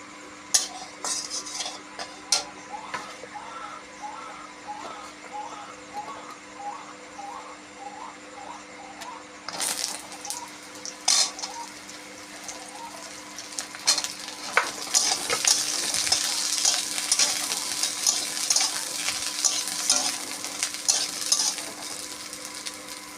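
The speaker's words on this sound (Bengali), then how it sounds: "আবার অল্প তেল দিয়ে পটলগুলো আলাদা ভেজে নেব।" Pointed gourd fries in a small amount of oil, a continuous nearby sizzle with a run of quick rhythmic spatula taps and scrapes, growing louder and more crackly toward the end.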